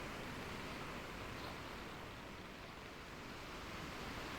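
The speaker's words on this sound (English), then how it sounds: "Oh, the waves are building again." Waves building on the open sea during a sailing voyage, a steady, broad wash of surf and water noise with wind, continuous and even throughout, no voices.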